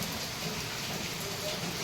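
Heavy rain falls in Bhadrak district, a dense, steady hiss that continues without a break across the whole short stretch.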